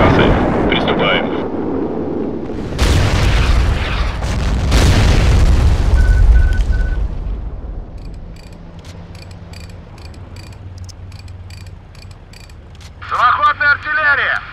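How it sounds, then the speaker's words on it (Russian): Self-propelled artillery fires in a video game set in the Donetsk region of eastern Ukraine: two loud, deep booms with long rumbling tails, each followed by lingering echoes, then quieter background hum and a short burst of radio-like chatter at the end. "Самоходная артиллерия."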